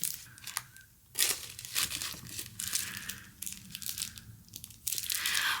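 Foil sticker bundles being sorted by color, with crisp crinkling and rustling of plastic packaging in irregular bursts, handled close up and fairly quiet.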